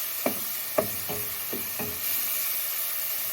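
Fish fries in a pan with a constant bright sizzle, broken early on by about five soft scraping knocks of a utensil, then settling into a steady hiss.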